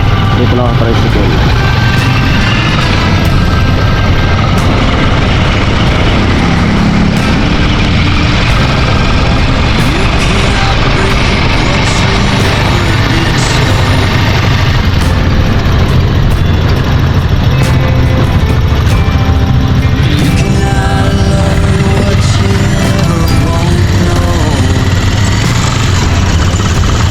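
A motorized tricycle ride in the Philippines carries a loud, continuous engine drone with steady rumble and clatter all the way through, and a voice talks over it.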